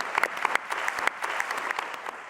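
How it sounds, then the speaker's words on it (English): A conference audience gives a round of applause after a demonstration, steady mid-level clapping from a roomful of people with a few sharper claps standing out near the front. "I think you deserve a big round of applause"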